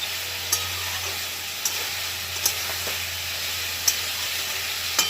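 Fried lentil dumplings and bitter gourd going into a pan for a Bengali bitter gourd chorchori, with a steady close sizzle and hiss broken by several light stirring scrapes and taps.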